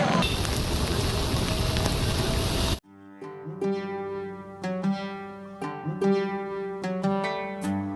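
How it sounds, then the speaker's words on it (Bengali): Heavy rain pours in a dense, loud hiss near Swargadwar beach in Puri for about three seconds, then cuts off abruptly as tonal music begins. "আবার চরম বৃষ্টি নেমে গেছে"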